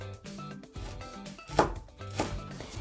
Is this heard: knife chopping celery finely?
yes